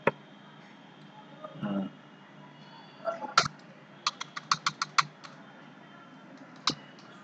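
Fingers type on a computer keyboard while HTML code is written, a close run of sharp key clicks with a quick rapid burst in the middle, plus a brief murmur of voice early on.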